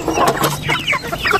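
Rhode Island Red chickens cluck in quick, close bursts as they peck at and eat leaves, several birds overlapping with no talk.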